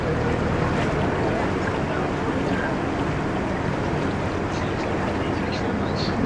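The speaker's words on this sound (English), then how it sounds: "There's a ferry boat." Steady low rumble of a ferry boat on the water, blended with wind buffeting the microphone and waves, loud and continuous.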